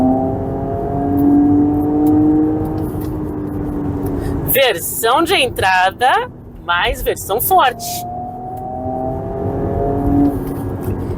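Porsche Cayenne V6 with sporty exhaust, set to Sport Plus mode, revving and accelerating with a loud rising engine tone that drops away while someone talks, then returns as a strong drone.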